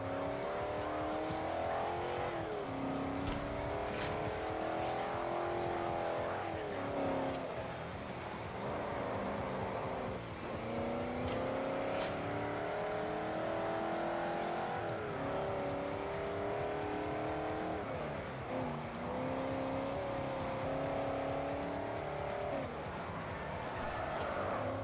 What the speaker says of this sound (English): Oh, a little drifting.